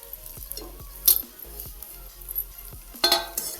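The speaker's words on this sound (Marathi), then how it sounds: "आता हे सगळं मिक्स करून घ्यायचं" Fried moth bean (matki) mixture stirred in a pan with salt and crushed peanuts, giving soft scraping and clinking strokes with a faint sizzle, close and alone.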